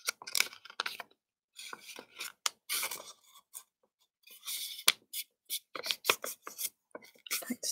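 A sheet of origami paper is folded and creased close up, giving crisp rustles, sliding rubs and sharp creasing swipes in short bursts separated by brief silences.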